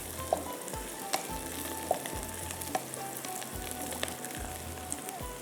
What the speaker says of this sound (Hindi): चलिए, अब ये प्याज के अंदर भी जाएगा, थोड़ा सा इसको भूनेंगे हम इस तरह से।